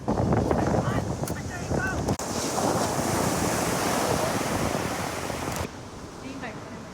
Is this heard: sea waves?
yes